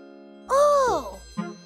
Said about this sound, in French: nous entendons les joyeux carillons du marchand de glace et de son camion